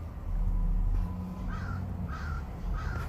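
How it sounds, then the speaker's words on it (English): A crow gives three evenly spaced harsh caws, clear and moderately near, over a low steady rumble of background noise. "Mama Crow."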